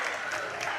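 Home crowd at a Wayne County boys high school basketball game reacting loudly to a foul call, a dense sustained roar of voices and clapping filling the gym for under a second.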